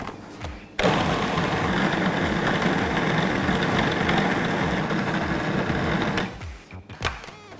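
Food processor whirring as it grinds peanuts into peanut butter, a loud, steady motor drone with a rhythmic chugging that runs for several seconds before cutting off, followed by a few clunks.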